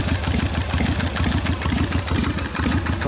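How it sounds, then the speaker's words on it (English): A 1971 Harley-Davidson Shovelhead rat rod engine idles close by, a loud, steady loping potato-potato rhythm of uneven thumps with no talking. "Runs and idles perfect. Just sit here and idle all day."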